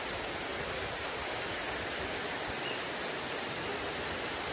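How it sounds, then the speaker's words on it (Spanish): A waterfall in a valley of the Albanian Alps gives a steady, dense broadband rush of falling water, constant and unbroken throughout, with no voices. "Y aquí entre estos valles está la cascada."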